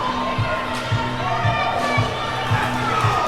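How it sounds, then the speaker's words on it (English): A crowd at a high school district hockey game against Alexandria keeps up a sustained roar of cheering and shouting, with regular dull thumps pulsing underneath about twice a second. "The crowd goes crazy for Alexandria as they are in the lead"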